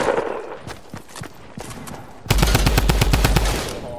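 Video game gunfire, with scattered single shots and then a loud rapid automatic burst lasting over a second, close and punchy.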